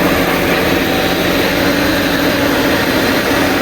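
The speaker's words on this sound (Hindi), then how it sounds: "ये अभी इसके इंजन की कंडीशन है।" A rebuilt Nissan Sunny car engine runs with a steady, loud, close droning roar that holds without a break.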